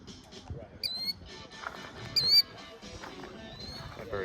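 A bird guarding its nest of eggs in a parking lot beside a baseball field gives two sharp, high squawks about a second apart, heard over people talking nearby.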